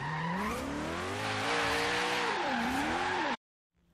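A Koenigsegg Regera engine in the video game Forza Horizon 3 roars and revs at over 200 mph with tire squeal, sustained loud and close, then cuts off abruptly near the end.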